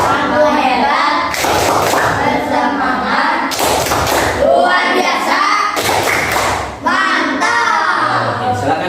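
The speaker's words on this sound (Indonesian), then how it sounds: "Silakan kita berikan tepuk apresiasi untuk kelompok 3." A primary-school class gives group 3 a rhythmic appreciation clap, with short loud bursts of many hands alternating with children's chanted voices, close and lively throughout.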